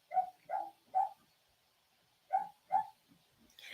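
A dog barks in an odd, strained voice: three quick barks, a pause, then two more, fairly close and clear, with a faint high squeak at the end.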